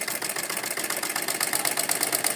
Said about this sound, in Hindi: इस तरह से हम सिलाई कर लेंगे